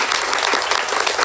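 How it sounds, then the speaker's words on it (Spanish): Church congregation applauding in a dense, steady wash of clapping that fills the whole short moment without pause, loud and close. "¿Por qué no le das un fuerte aplauso a Dios?"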